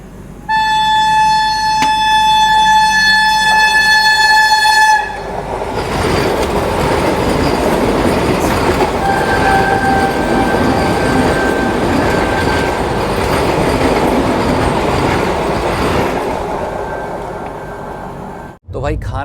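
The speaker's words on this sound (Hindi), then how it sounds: "ये सामने से आ रही है Udaipur Agra cantt Vande Bharat express train." An Udaipur–Agra Cantt Vande Bharat Express train rushes past close by, a loud steady roar of wheels and rattling coaches lasting many seconds, with a horn tone at the start and faint squealing.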